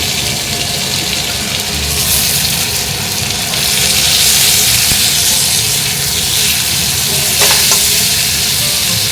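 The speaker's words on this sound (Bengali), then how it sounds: "আলুটা আমার একটু ভাজা হয়ে গেছে, এবার আমি পেঁয়াজ কুচিটা দিয়ে দেবো" Potatoes and chopped onion frying in a pan: loud, close, unbroken sizzle that holds steady and intensifies slightly partway through, with no talk.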